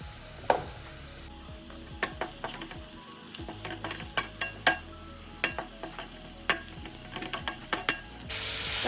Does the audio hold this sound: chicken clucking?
no